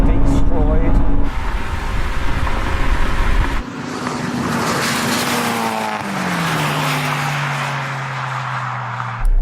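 A Japanese sports car engine, an S2000, 86 or MX-5 class, revs hard during a race, its pitch climbing and falling through gear changes and staying loud and close, with excited talk over it and a brief tyre squeal.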